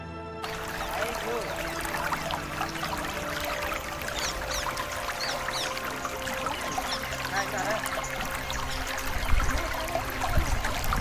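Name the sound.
forest stream with light drizzle near Pavagadh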